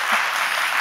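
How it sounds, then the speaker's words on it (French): Children applaud loudly in a TV studio during a morning children's programme, a dense continuous wash of clapping from a group that stays steady from start to finish. "ils vont s'applaudir bien fort pour nous dire que tout va bien"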